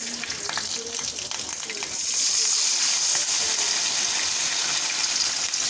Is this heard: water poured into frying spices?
yes